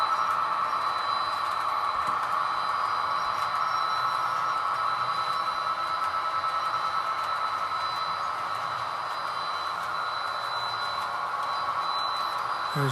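A BN train passes with a continuous rumbling roar and a faint high whine from the wheels, steady and sustained at moderate distance, with no voices.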